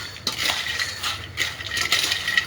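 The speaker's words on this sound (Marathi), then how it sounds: "हे गरम असतानाच टाकायची चटणी साखर आणि मीठ म्हणजे सगळं आपलं चिवडायला लागतो" Spoon stirring and tossing hot nylon poha chivda with chutney, sugar and salt in a metal pan, a close scraping and rattling that comes in repeated sweeps with small clinks.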